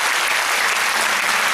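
A church congregation bursts into dense, sustained applause, many hands clapping at once in a loud continuous wash that fills the room without pause.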